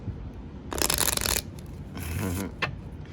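A quick riffle of tarot cards, a crisp burst of fluttering paper, followed by softer sliding and a brief snap against faint background hiss.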